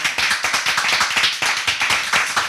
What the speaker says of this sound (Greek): Τώρα θα ήθελα ένα μεγάλο χειροκρότημα από όλους εμάς που είμαστε εδώ για την υπέροχη ορχιστράρα μου.